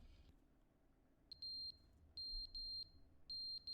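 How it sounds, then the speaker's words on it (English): Carbon monoxide smoke detector giving repeated high electronic beeps in short groups of three, loud and close against a quiet room. "the battery's dying on the carbon monoxide smoke detector"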